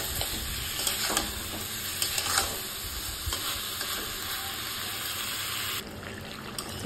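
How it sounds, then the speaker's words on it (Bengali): Chicken pieces for chicken kosha frying in a pan while being stirred, a steady close sizzle with scraping strokes of the spatula running throughout. "তো আমি এইভাবে কষতে কষতে কষতে কষতে অনেকক্ষণ ধরে ভাজবো।"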